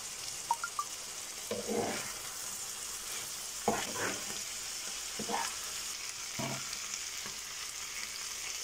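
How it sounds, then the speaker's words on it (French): Macaroni with chicken and shrimp sizzles quietly in a pan while a utensil stirs it in several soft, spaced scraping strokes; there is no talking. "je remue"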